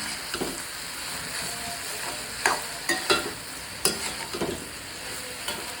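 Spices and salt sizzle steadily in a pan while being sautéed for Kumbakonam gothsu, with a spatula scraping and clacking against the pan every second or so.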